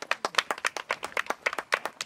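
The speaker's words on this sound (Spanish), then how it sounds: "aplauso, hombre." Brief clapping at an award ceremony for a pistol circuit prize, a few hands beating a quick, uneven rhythm of distinct claps close by, with no talk over it.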